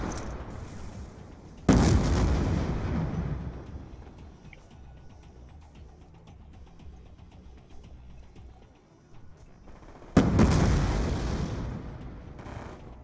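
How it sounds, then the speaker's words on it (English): Two heavy booming Hellstorm missile strike explosions in Call of Duty Black Ops 2 multiplayer, each a loud sudden blast trailing into a long rumbling decay, set several seconds apart. "Friendly Hellstorm missile inbound."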